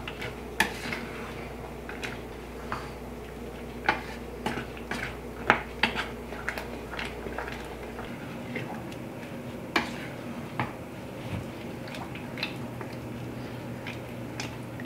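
Utensil clinks and soft scraping as a date bar mixture is cooked and stirred in a pan over medium-high heat, with irregular light taps and a low steady hum, no talk.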